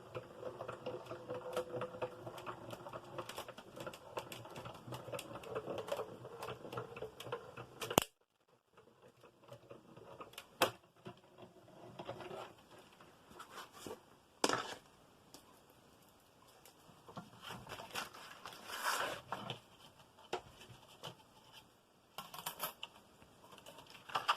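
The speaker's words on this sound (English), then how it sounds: "my die cutting machine is on the table, which rocks my camera. So I'll just cut this one out." A die cutting machine on a tabletop cuts through paper with a close, quiet stream of rapid clicks and crackling patter, interrupted by a short pause partway through before the mechanical rattling resumes.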